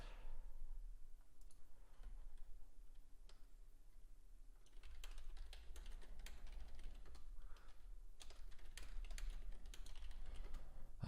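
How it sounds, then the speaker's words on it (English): A computer keyboard clatters as someone types during a live day-trading session: faint, irregular bursts of key clicks over a low background hum, growing busier in the second half. "If you do hear typing, that's just me making alerts."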